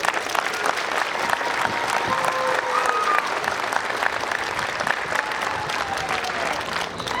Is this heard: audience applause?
yes